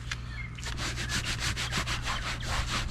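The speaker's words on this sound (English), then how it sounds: "we're gonna grab our trusty old tire brush." A tire brush scrubs lightly during a budget car build, giving a steady, rhythmic series of close bristly rubbing strokes at an even pace with no talking.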